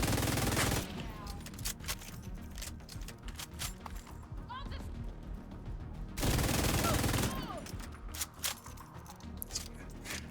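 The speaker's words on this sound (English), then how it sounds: "I hear gunfire." Bursts of automatic gunfire in The Division video game, loud rattling volleys at the start and again midway, with scattered shots and voices between them.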